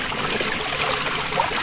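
Water trickles steadily and softly from a homemade free energy drum pump that runs without electricity, feeding a tiny hydroponic pool. The flow is close and continuous, with no voices.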